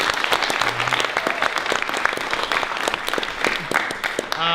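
Graduation ceremony audience claps in a brisk, loud burst with distinct individual claps, and a voice or two rises briefly at the close.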